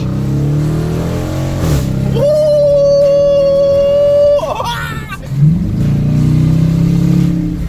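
A slow rented car's engine revs up, holds a steady high whine for a couple of seconds, then drops back, loud and close, with a short laugh-like sound and no talk.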